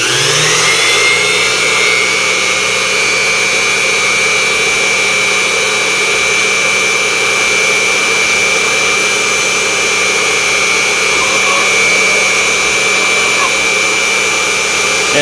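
A Unimat SL1000 lathe takes a shallow facing cut in 1144 steel with a 10 degree tool, a steady close motor whine with a thin sustained tone running unbroken throughout, no voices.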